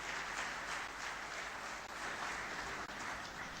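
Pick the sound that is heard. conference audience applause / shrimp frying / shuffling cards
conference audience applause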